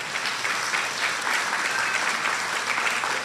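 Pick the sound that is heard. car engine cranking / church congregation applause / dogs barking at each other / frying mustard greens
church congregation applause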